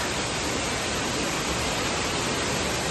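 Dense, steady roar of a waterfall at close range, a broad wall of rushing water filling the whole span without pause.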